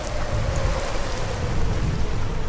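Storm at sea in the Sailaway sailing simulator game: steady, loud rain hiss fills the space, with deep rolling thunder rumbling low underneath throughout, no voices.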